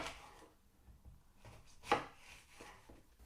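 Fruit and vegetables get chopped for compost with a few quiet knife strikes on a board, one sharper chop standing out among softer taps and rubbing sounds.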